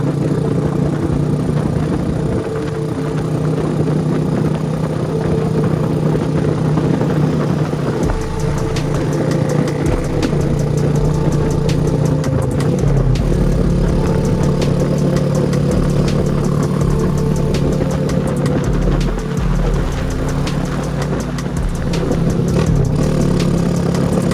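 A Honda Supra motorcycle engine with an aftermarket exhaust runs loudly and close by, idling and revving in waves over a long stretch without a break.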